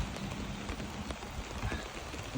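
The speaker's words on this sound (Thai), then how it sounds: "ฝนตกต้อนรับเราเป็นอย่างดีนะครับ" Steady rain patters across a hard surface at Nong Prajak in Udon Thani, Thailand, with scattered drops and taps over a continuous soft hiss.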